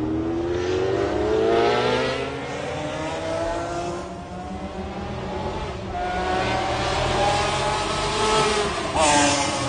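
A McLaren race car at the 1995 Le Mans 24 Hours, engine loud and near, revving up through rising gear pulls with brief dips between shifts, a French commentator talking over it.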